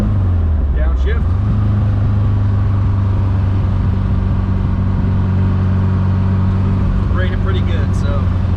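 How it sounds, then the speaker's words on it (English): A Porsche 914 with a freshly repaired shifter coupling drives along, its engine a steady low drone close up, with brief shifts in pitch near the start and end as gears change and the car slows under braking. "Braking pretty good, so get her back to the house here. There we go, second gear without a grind."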